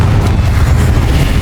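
A Confringo fire-blast spell detonates in the Hogwarts Legacy video game, a loud, dense, sustained low boom with no voices.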